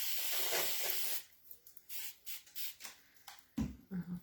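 Spray bottle misting water over a wooden chest being made into a side table: a long hissing spray burst at first, then a run of short sprays and soft handling noises.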